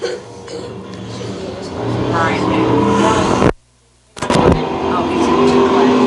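Modified stock cars racing on an oval track, a loud roaring pack of engines passing close, cutting out briefly before the roar returns, with an announcer's voice talking over it.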